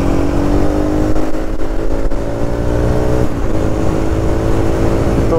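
A motorcycle engine speeding up on a cold ride, a loud, rough, steady revving drone with gear-shift dips in pitch, heard close up with wind noise and no talking.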